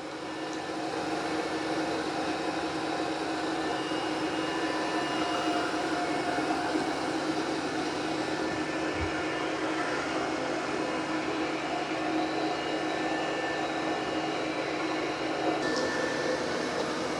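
An Ecovacs X11 Pro robot vacuum runs close by with a steady, unbroken whirring drone. It stays loud and even throughout, with no voices.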